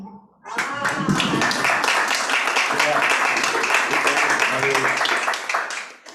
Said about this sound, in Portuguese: Palmas para esse Pai